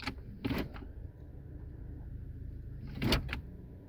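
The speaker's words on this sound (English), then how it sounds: "it activates the emergency brake" A Toyota electric parking brake engages inside the car with a short whirring motor burst, a quiet pause, then a second louder whir-and-clunk burst, close and without talk.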